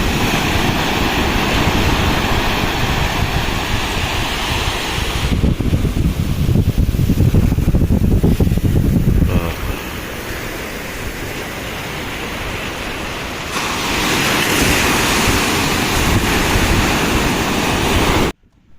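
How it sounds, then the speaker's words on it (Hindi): Sea waves roar continuously on the shore near Chilika Lake in Odisha, a loud, close, unbroken surf with swelling and easing surges and no voices. "कुछ पल आप समुद्र की आवाज़, उसकी गर्जना को भी महसूस कीजिए।"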